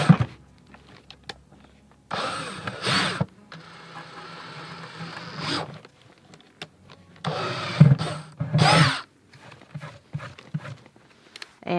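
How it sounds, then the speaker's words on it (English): A power drill whirs in several separate bursts, each a few seconds long, drilling drainage holes in a plastic bucket, with clunks and handling noise in between, close by and loud. "I'm going to drill some holes in here."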